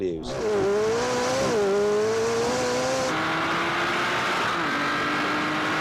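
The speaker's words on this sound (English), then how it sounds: "I was totally humiliated in a drag race between this McLaren 750S and a bunch of tuned BMWs" A McLaren 750S drag races tuned BMWs, engines roaring loudly with a rising pitch that drops at each gear shift and then climbs again.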